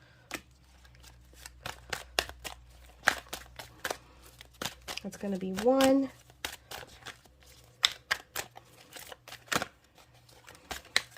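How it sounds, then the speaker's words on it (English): Tarot cards shuffled by hand give a scatter of crisp, sharp clicks and flicks, close up, with a brief denser riffle midway and a voice speaking briefly. "Sorry, I'm shuffling here."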